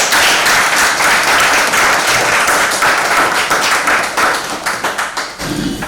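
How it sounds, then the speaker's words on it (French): A large crowd claps loudly and steadily for several seconds; the clapping thins into scattered claps near the end. "Ça s'applaudit."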